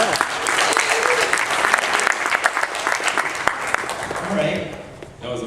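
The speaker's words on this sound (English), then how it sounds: "Big round of applause" An audience at a startup pitch event breaks into a long, loud round of applause, dense clapping that thins out toward the end as a voice begins speaking.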